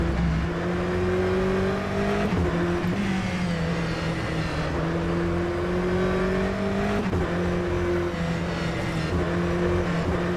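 Aston Martin Vantage GTE race car in rFactor 2 at Estoril, its engine droning loud and steady with pitch rising and falling through gear changes while a faster car closes in from behind, no talk over it.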